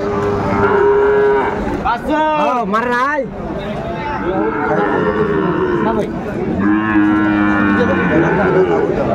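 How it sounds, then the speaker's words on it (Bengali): Sahiwal cattle, including young bull calves offered for sale, moo loudly and at length close by, with several drawn-out calls over about nine seconds while people talk alongside. "শাহিওয়ালের ষাঁড় বাচ্চা আমরা দেখছিলাম। সুন্দর বাচ্চা।"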